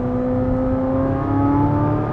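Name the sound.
Corvette Z06 engine revving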